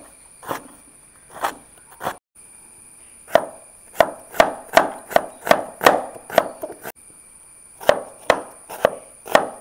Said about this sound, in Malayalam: ഉള്ളി നമ്മൾ കുന്നു കുന്നു അരിയണം.